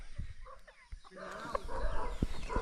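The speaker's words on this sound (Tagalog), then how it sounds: "Dami na manok oh" Chickens cluck and murmur nearby against outdoor background noise, with short sharp calls and scuffling sounds scattered through.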